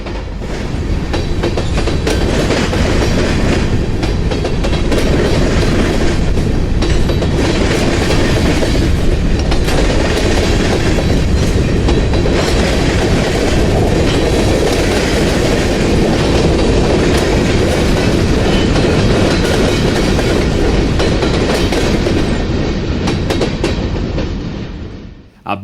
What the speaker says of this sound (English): The first train we captured here was westbound grain train D79, a local with an